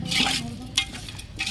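Chicken pieces with salt and chili powder stirred in a pot for Andhra-style chicken, a short soft scraping and sizzling stir with a few spoon strokes, close and alone without talk.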